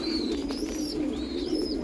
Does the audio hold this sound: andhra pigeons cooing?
yes